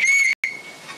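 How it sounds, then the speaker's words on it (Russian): A bright, shrill toy whistle blown in a steady tone, briefly cut off, then sounding again and fading into a softer, noisier tail. "Каждая игрушка, Владимир, это свисток,"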